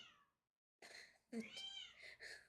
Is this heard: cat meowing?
yes